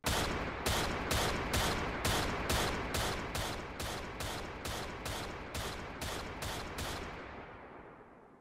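A simulated gunshot effect from a Unity 3D gun demo fires about thirteen loud, evenly spaced shots in rapid succession. Each shot decays quickly, and a short fading tail follows the last one.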